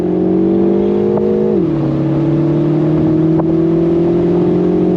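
A 2026 Mini Cooper S engine holds a loud, steady on-throttle drone close by, its pitch dipping briefly at a gear change and then climbing slowly again, with no talking.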